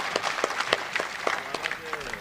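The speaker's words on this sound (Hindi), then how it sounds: "एक बार पूरा सदन जोरदार तालियां बजा के माहौल बना दे" A full hall audience claps loudly before a Hindi poem recital at a poets' gathering, scattered sharp claps ringing out over crowd murmur and voices for a couple of seconds.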